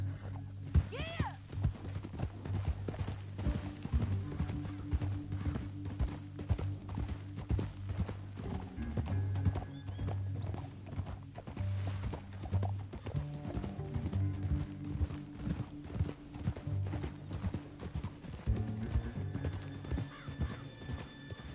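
Rapid hoofbeats pound steadily as horses gallop in the video game Red Dead Redemption, with a horse whinnying, a low droning hum and occasional voices mixed in.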